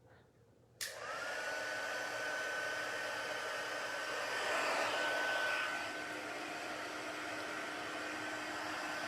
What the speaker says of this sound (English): Okay, so let's heat emboss.